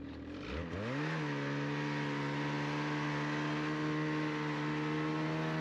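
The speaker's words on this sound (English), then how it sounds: "when I hit the gas, it lifts my skis off the ground and you lose steering slightly" A snowmobile engine revs up while towing a dead sled through mountain powder, rising quickly to a loud, steady high-pitched drone that holds close and constant.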